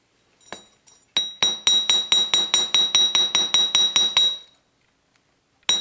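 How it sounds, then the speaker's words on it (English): A quick, steady run of about fifteen light taps from the ball end of a worn ball-peen hammer texturing craft wire for a Christmas tree pendant, ringing and metallic, close up, with a few softer taps before and one after a pause. "So just little taps with the ball part of the hammer"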